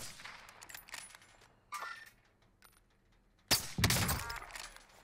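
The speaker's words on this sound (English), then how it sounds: "I'm having gunfire with the guy here." Gunfire in the video game Warzone: bursts of shots and sharp impacts at moderate distance, a quick volley early, a louder close burst near the end, otherwise quiet game ambience.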